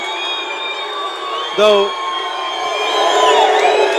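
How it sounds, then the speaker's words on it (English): Crowd at a boxing bout at the Salon Mezzanine voicing disapproval, a broad sustained roar of jeers and shouts from many people under a ringside commentator's talk, with one sharp yell cutting through. "getting some boos here from the crowd at the Salon Mezzanine."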